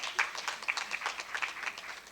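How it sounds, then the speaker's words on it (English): Audience applause at a medical conference's inaugural function: dense, sustained clapping from a crowd that fills the whole moment at moderate loudness, with no talk over it. "A big round of applause for Jaideep."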